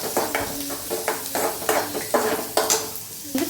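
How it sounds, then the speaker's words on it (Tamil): Onions frying in oil in a pan, with steady sizzling and repeated scraping stirs at a quick irregular rhythm, close up and alone with no voices. "இது நல்லா ஆயிலில் ஃப்ரை பண்ணுவோம்."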